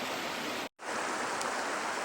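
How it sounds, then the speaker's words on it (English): A creek flows below a ledge in Spearfish Canyon, South Dakota, giving a constant broadband rush of moving water, broken once by a very brief dropout. "Creek underneath us."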